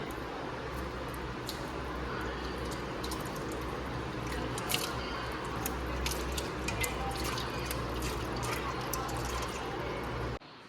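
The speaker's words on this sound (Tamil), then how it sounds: "நான் இப்போ இந்த ஐஸ் தண்ணியில் தான் முகத்தை கழுவ போகிறேன்" Ice-cold water splashes faintly and continuously as a face is washed, with soft dripping and squishing up close and no talking.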